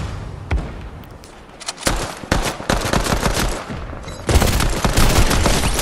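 Rapid automatic gunfire fills a Fortnite match: dense bursts of loud shots crack in quick succession, pause briefly, then resume in a sustained close volley without any speech.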